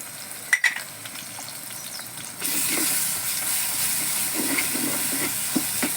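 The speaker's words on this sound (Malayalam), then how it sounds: "നമുക്കിനി ഇഞ്ചി ഇത്രയും ചതച്ച് വെച്ച സാധനം അതിലേക്ക് ഇട്ട് കൊടുക്കാം" Crushed ginger added to green chilies in a frying pan, a quiet clatter giving way at the drop to a steady, close sizzle of hot oil with small pops and stirring scrapes for the rest of the clip.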